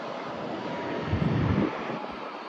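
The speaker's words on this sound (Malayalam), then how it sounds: "കറക്റ്റ് ഫ്ലൈറ്റ് വന്ന് ഇറങ്ങുന്നത് കാണാം" A broad, rushing roar of an airplane passing close overhead as it comes in to land, swelling briefly then easing, with wind buffeting the microphone.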